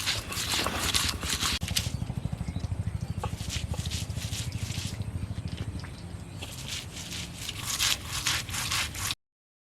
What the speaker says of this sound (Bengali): পেঁয়াজ বেটে নিচ্ছি।